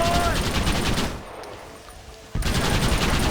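Dense minigun fire and blasts in Red Dead Redemption in Mexico, a loud continuous roar that drops to a lull for about a second and then bursts back in at full strength.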